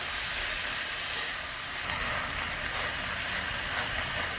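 Marinated soy-sauce pork bulgogi stir-frying in a pan, a steady broadband sizzle with an even hiss, close and continuous, with no voices.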